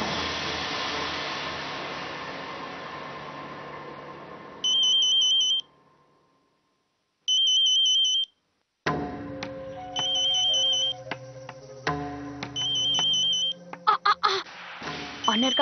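An electronic phone ring sounds in short repeated bursts, broken by silences and other clattering, beeping noises.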